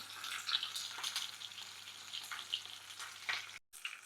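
Fish frying in a pan for a Filipino sweet and sour dish, a steady crackling sizzle with brief pops, close and fairly quiet, cutting out abruptly near the end.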